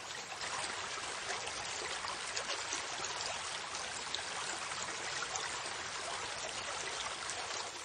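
A river of clear water flows steadily and close by, a continuous broadband rush and trickle with no pauses and no voices.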